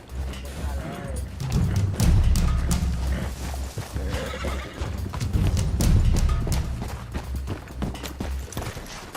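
A horse neighs and whinnies with thudding hooves in a Wild West video game, the loud calls coming in two bursts amid game noise.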